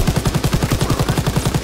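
An FG-42 automatic rifle in the Call of Duty: WWII video game fires a loud, unbroken burst of rapid, evenly spaced shots.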